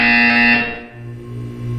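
A harsh, steady electronic buzzer from Portal 2 sounds loudly for about half a second, then cuts to a lower droning tone that lingers with no voices over it.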